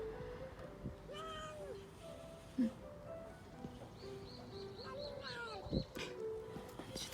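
Kittens give several short, thin meows in a quiet indoor room, spaced apart between soft background noises and occasional low talk.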